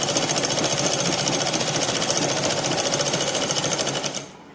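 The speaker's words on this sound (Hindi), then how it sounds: "अब पेटीकोट के बीच की सिलाई लगा देंगे।" A sewing machine stitches the centre seam of a petticoat, a loud, fast, even needle chatter running steadily for about four seconds before it stops abruptly.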